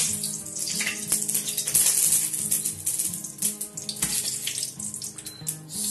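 Tap water runs steadily into a kitchen sink while cooking an egg, a close, continuous splashing stream with faint clinks of utensils and no talking.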